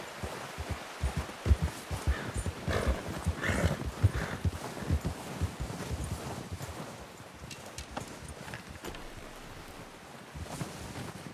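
A horse walks in Red Dead Redemption 2, with irregular hoof clops over soft ground and a low rumbling ambience, loudest early and easing off toward the end, no talk.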